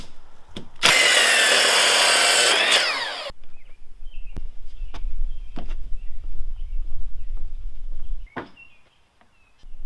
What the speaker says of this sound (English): wifey is over here drilling off the rest of the planks